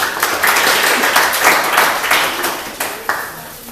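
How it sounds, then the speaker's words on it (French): Wedding guests clap during the ceremony, a loud burst of applause with distinct individual hand claps pulsing through it, fading slightly toward the end. "On peut peut-être l'applaudir."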